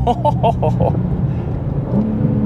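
BMW M2 engine runs under in-car talk, a low continuous drone with a short burst of rapid pops at the start before settling into a steady rumble.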